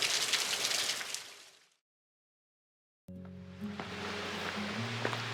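Water trickling down rocks in small waterfalls at a desert canyon campground in Colorado National Monument, a steady hiss of splashing that cuts out to silence, then returns with a faint low hum underneath, no voices.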